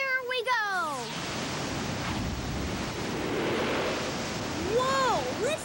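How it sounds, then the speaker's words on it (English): A thunderous, constant roar of crashing water fills the air, with brief voiced exclamations at the start and near the end. "listen to the waterfall. It's thunderous."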